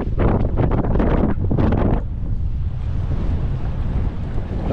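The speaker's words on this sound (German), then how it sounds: "Aber hier ist es wieder ein bisschen windig." Wind gusts at the Glör dam (Glörtalsperre) during a bike tour, roaring and buffeting the microphone in a steady, loud rush with stronger bursts early on and no talking.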